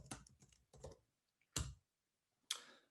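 A few sharp keyboard clicks land in separated bursts while a terminal command is entered on a computer keyboard; the keystrokes are close and crisp, with brief silences between the groups.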